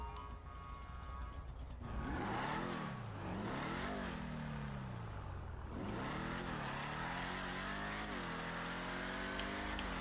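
A Vapid Dominator ASP muscle car in GTA 5 Online revs loudly up and down, its engine pitch climbing and dropping in repeated sweeping swells as it accelerates and shifts on the street, close and continuous.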